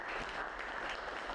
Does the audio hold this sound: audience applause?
yes